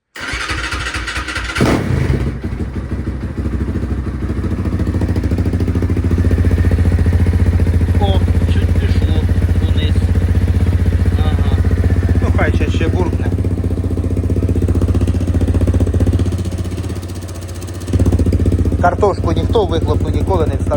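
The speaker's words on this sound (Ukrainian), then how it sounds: "Зараз тоді включуся за мотором. Так, робимо пуск." An MTZ-80 tractor engine cranks briefly and fires, then settles into a loud, steady diesel running drone close by, dipping near the end before rising again, with a voice heard faintly over it.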